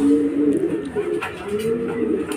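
Racing pigeon at the Baluarte loft during a club training arrival, giving low, steady cooing close by, with faint soft clicks and rustles behind it.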